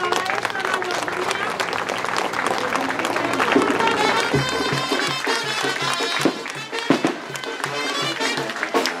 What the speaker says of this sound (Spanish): Un aplauso muy fuerte para esta mayoría.